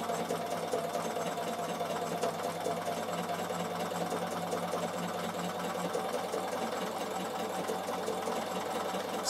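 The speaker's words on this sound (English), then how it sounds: "I'm going to be stitching very slowly to make sure that I get a really nice blanket stitch" A Bernina sewing machine runs steadily through a slow blanket stitch in wool felting work, a continuous close mechanical whir with fine rapid needle rhythm and no pauses, no talking.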